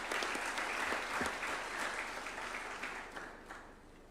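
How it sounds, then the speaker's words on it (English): An audience applauds steadily at a COMESA judges' swearing-in ceremony at State House, Nairobi. The dense, sustained clapping fills the whole four seconds and tapers off slightly toward the end. "A round of applause for him, please."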